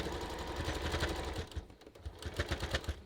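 A sewing machine stitches through the seam allowance of a red fabric heart banner, a steady rapid run of needle clatter that pauses briefly midway and then resumes in short bursts, close and fairly quiet.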